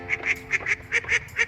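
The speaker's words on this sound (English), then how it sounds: "Quack, quack, someone's having fun in the water." A duck quacks in a quick series of about seven nasal, honking calls in a steady rhythm, close and clear with no talking.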